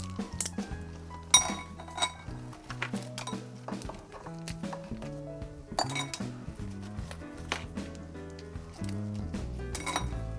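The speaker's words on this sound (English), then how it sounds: "When you hear the crack, flip it over and remove the shell." Sharp clinks and cracks of langoustine shells being peeled by hand, with scattered clattering taps close by over a low background of kitchen noise.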